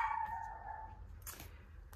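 Dogs at home react to a mail carrier with a drawn-out whining howl followed by a short sharp bark, fairly faint and close.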